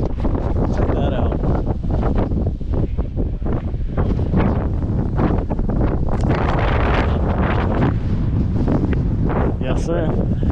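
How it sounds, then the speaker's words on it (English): Wind gusting across a ski slope in November, a steady broadband roar buffeting the microphone throughout, with a voice talking over it. "I'm gonna say the wind's kicking off a little bit"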